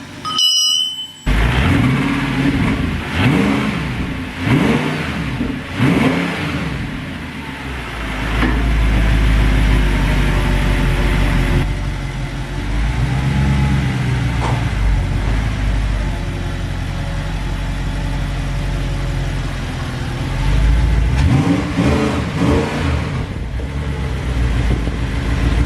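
A rebuilt Audi R8 engine revs and rumbles as the car drives out, with loud, sustained engine roar that swells and settles, rising again in bursts toward the end.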